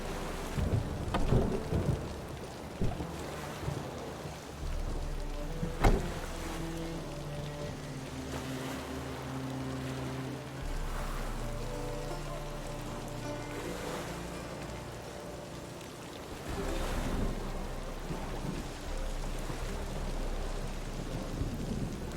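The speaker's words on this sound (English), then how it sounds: "It's raining again." Steady rain pours in the Witcher 3 game world while deep thunder rolls and rumbles low underneath, with a few sharper cracks early on and swelling rumbles later, continuous and fairly close.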